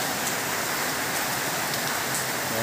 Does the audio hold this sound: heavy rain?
yes